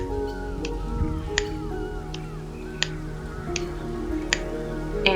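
Children snap their fingers one at a time to imitate raindrops hitting trees, giving sparse, sharp, irregular clicks spaced about a second apart over a low steady room hum.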